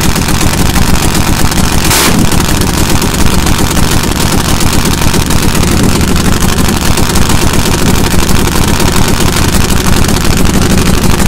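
A loud, rough nitro drag motorcycle engine, two spark plugs per cylinder, roars steadily and continuously at close range while warming up, with a dense mechanical rumble and no voices.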